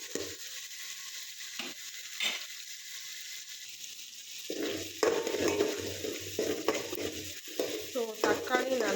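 Tomatoes sautéing in a pan for prawn curry, a gentle steady sizzle with a couple of spoon taps early, then busier scraping and clattering stirring in the second half, close and without voices.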